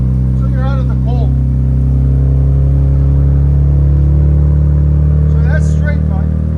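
A 2025 RAM RHO with a 3.0L Hurricane inline-six and straight-pipe exhaust, muffler removed, idles loudly up close and is revved into a rising growl, while a person talks over it.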